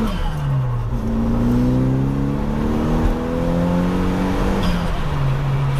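A Renault Twingo GT converted with an F4RT engine, accelerating hard with the engine note climbing repeatedly through the gears, heard up close from inside the car.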